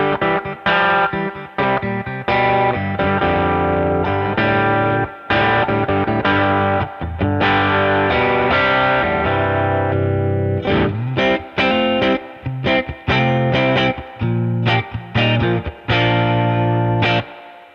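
Distorted electric guitar through a Box of Rock overdrive pedal into a Fender amp plays rhythmic, choppy chords with short stops between strums, loud and close.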